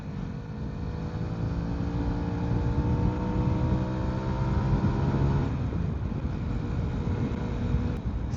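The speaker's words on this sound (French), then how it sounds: "il y ait une petite sortie d'échappement qui fait qu'on a quand même un bruit qui est agréable, qui est pas trop fort non plus" A 2009 Honda CBR125R motorcycle is being ridden. Its small single-cylinder engine and exhaust give a steady, moderate drone whose pitch climbs and then drops, heard alone over wind noise.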